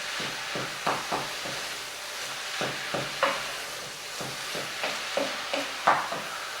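A spoon stirs fresh or dried parsley and thyme into a sizzling cottage pie filling in a pan, giving soft repeated scraping strokes in an irregular rhythm over a steady low frying hiss, close and moderately quiet.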